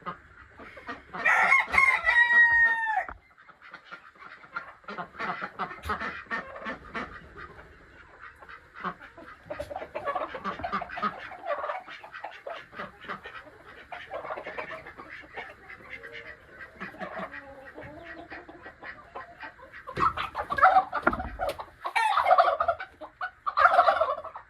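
Chickens and a turkey call loudly nearby while their feathers are clipped, with a strident crow-like squawk at the start, repeated gobbling and clucking throughout, and a burst of excited calls near the end.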